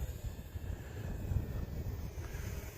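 An Eachine Mini BF109 400mm RC warbird flies at full throttle with a steady low motor drone, heard from a distance under wind buffeting.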